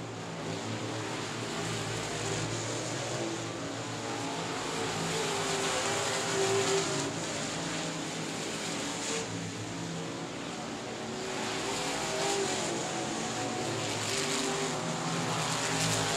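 Race cars lap South Texas Speedway, a racing oval, with a continuous distant engine drone that swells and fades as cars pass. A commentator talks over it.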